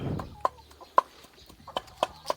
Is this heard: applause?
no